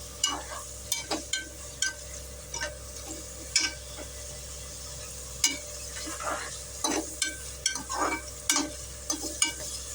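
Onions and green chillies sizzle in hot oil, with scattered crackles and pops and the occasional scrape of stirring, fairly quiet and close.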